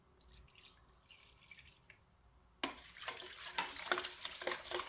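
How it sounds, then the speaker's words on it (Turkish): Warm water goes into a yogurt dough for small soft pastries, first with quiet drips and trickles, then a louder wet splashing and stirring as the liquid pours and mixes in, close by. "Sonrasında su bardağı ılık suyumuzu ilave edelim."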